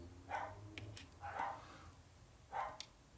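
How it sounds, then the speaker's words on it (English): Dogs barking somewhere in the house, three separate bursts spaced about a second apart, moderately distant and fairly faint, with no talk over them. "the dogs are going"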